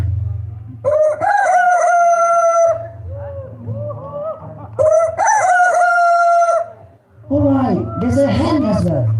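A human voice imitating a rooster's crow, two long drawn-out crows close up, followed by a burst of clucking-like vocal noises.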